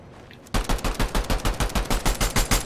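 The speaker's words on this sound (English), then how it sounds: "Somebody's shooting at me." Rapid automatic gunfire in the video game Fortnite, a loud burst of evenly spaced shots starting abruptly after a quiet moment and continuing steadily to the end.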